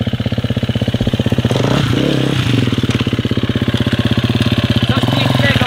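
A new KTM 250 EXC-F dirt bike engine running close by at a steady idle with a rapid, even thump, and a brief rise in pitch midway; people talk over it.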